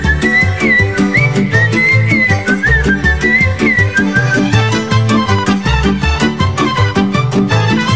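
A shepherd's flute whistles a lilting, ornamented melody over a busy, rhythmic folk band accompaniment with bass and percussion, loud and continuous throughout a Romanian folk song.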